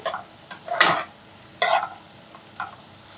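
Onions being stirred and sautéed in a pan, with several sharp scraping stir strokes over a soft background sizzle, fairly close and in irregular bursts.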